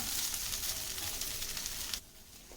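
Okra sautéing in a pan for ladies finger podi gives a steady, quiet hiss and crackle of frying that drops off abruptly near the end.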